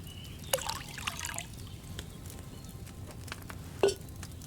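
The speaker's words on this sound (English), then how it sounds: "So, what did you pour in there? Wine, of course." Wine poured into a cauldron in Kingdom Come: Deliverance II, a soft, steady trickle and dribble over a quiet background, with two brief sharp clinks near the start and end.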